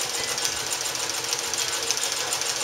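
A Sewmor sewing machine stitches leather across a thick seam, giving a steady, fast mechanical whir with rapid needle chatter that runs unbroken and fairly loud, close up, with no talking.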